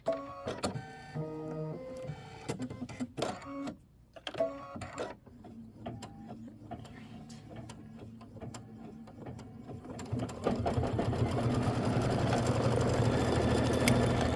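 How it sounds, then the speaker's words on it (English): An embroidery machine stitches a quilt block, first a rapid irregular mechanical chatter with pauses, then a steadier buzzing hum of continuous stitching, nearby and moderately quiet. "that's going to be 3 minutes of stitching"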